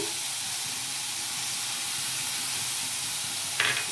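Carrot and cabbage frying in a pan for a paneer samosa filling, a loud, steady close sizzle and hiss with a brief clink near the end.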